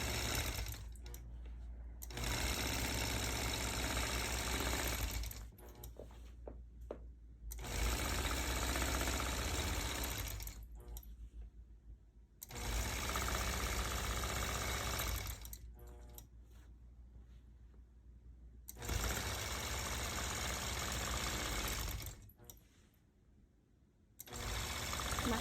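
A long-arm quilting machine stitches a disappearing nine-patch quilt in a steady whirring hum, running in long bursts that stop briefly and start again, close and fairly quiet.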